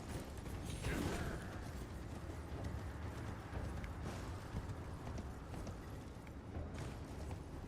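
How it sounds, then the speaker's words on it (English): Horse hooves clatter across the ground in Elden Ring, a busy, steady patter under constant game noise and mechanical creaking, moderately loud with no voices. "Oh my god, horse."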